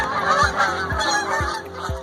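Geese honk repeatedly as they fly off from a city park lake, driven away by a laser deterrent; four evenly spaced calls stand out over a steady wash of background noise.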